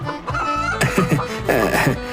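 A cartoon chicken clucks in a Hindi animated story, with a few bright, choppy squawks in quick succession that are loud and close.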